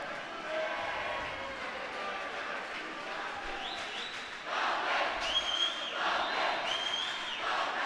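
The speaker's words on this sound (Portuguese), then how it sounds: "a torcida do Palmeiras cantando, vibrando" Palmeiras fans sing and cheer in an indoor gym during an under-8 futsal final against Corinthians, a sustained crowd roar with chanting and whistles that swells louder midway.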